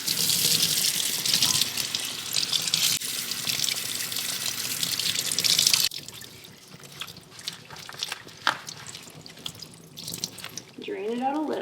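Warm water runs from a tap to soak a reusable cloth mop pad, a loud gushing hiss for about six seconds that cuts to softer splashing, dripping and handling in a sink.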